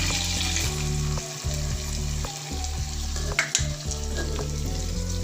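Cumin and finely chopped onion fry in the oil left after the paneer comes out, a steady close sizzle under a constant low mechanical hum, with an occasional light knock of a spoon.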